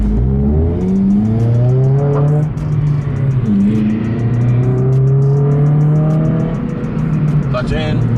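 Honda Civic Si with a manual gearbox, engine revving up and easing off in a couple of rising sweeps, loud and close inside the car, with voices speaking over it.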